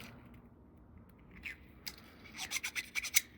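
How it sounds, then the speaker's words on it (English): A small tool scrapes gunk out of the tiny jet holes of a Honda push mower carburetor. Faint, quick scratching and rubbing strokes grow busier and louder toward the end in a quiet room. "We just want to clear out any gunk that might be in there."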